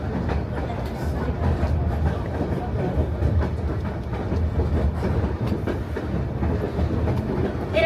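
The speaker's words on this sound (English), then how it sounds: "our train curving over the bridge" A White Pass & Yukon Railroad train rumbles steadily along the tracks while curving over a bridge in Skagway, Alaska, with a continuous low roar and faint rhythmic clacking throughout.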